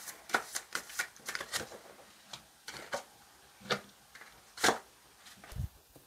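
Tarot cards being shuffled and drawn at close range, a quiet run of soft riffling flicks and slaps in uneven bursts, with no voices.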